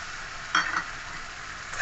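Paste of ginger, garlic, green chili and tomato sizzling in a hot pan, a steady close frying hiss with a couple of brief stirring scrapes.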